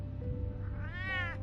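A cat in the Batman Telltale video game gives one drawn-out meow that rises and falls, fairly close but soft, over a low steady background hum.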